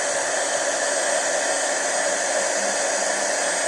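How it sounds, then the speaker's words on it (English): A heat gun melts embossing powder into a glossy bubble on a paper-punch embellishment, blowing a steady, close, loud hiss that holds unchanged throughout with no talking. "Just gonna take my heat gun and just melt that down with my heat gun."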